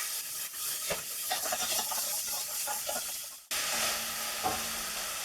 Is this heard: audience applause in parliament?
no